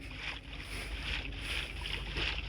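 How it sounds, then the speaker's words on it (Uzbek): A boat moves across water in a video game, making a steady, close, rushing wash of water mixed with a soft wind-like hiss. No talk. "Qayiqqa o'tiramiz."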